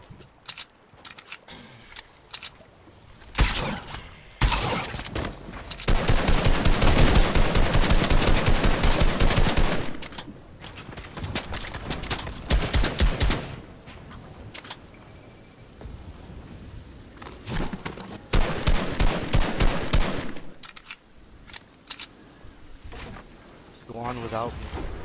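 Loud automatic gunfire rattles out in repeated bursts in a shooter video game, some long and sustained, others short and clipped, separated by quieter gaps with occasional voices.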